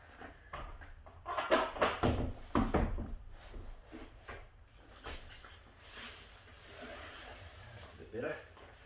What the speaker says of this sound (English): Just gently walk it in.